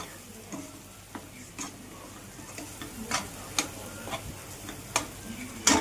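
Masala for egg masala frying in a pan with soft sizzling, stirred with repeated spoon scrapes and taps against the pan at an irregular rhythm.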